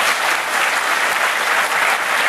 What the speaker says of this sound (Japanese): 大きな拍手で送ってあげてください。